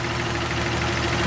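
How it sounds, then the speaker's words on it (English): A 1938 Chevy Coupe Master Deluxe six-cylinder engine idles, freshly timed, giving a steady, even hum with a low regular pulse. It runs close and alone, with no one talking. "You can hear how quiet this little engine is."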